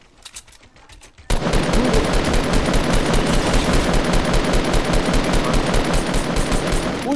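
Gunfire in a battle royale video game: a few faint scattered shots, then a loud, sustained burst of rapid automatic fire that continues for several seconds.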